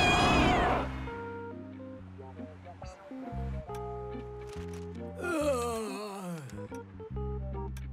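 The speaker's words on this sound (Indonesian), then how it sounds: "Salim, di depan kita ada kucing kecil." Small cartoon cat meowing in a string of drawn-out, tonal cries that rise and fall, fairly close and clear, with a rising squeal near the end and animated voices speaking around it.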